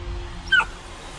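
A puppy lets out a single high, rising whimper-yip in the middle of a quiet pause, short and fairly close, with faint background hum around it.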